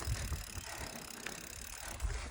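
A bicycle ridden on a 60-minute morning spin outdoors after an injury, with steady wind and road rumble and a few low thumps, no talking.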